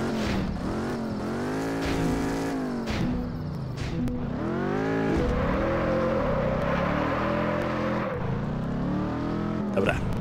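A car engine in the driving game Test Drive Unlimited 2 revs and accelerates repeatedly, its pitch climbing through the gears with brief drops between shifts, loud and continuous throughout.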